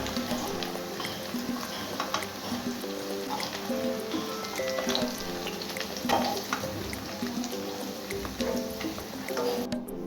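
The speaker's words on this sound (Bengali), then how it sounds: "এই দেখুন, পনিরগুলো ভাজা ভাজা হয়ে গেছে, এবার আমি এগুলো তুলে নেব।" Paneer pieces fry in oil in a pan with a continuous close sizzle and crackle, plus occasional stirring and faint clatter, and no talk.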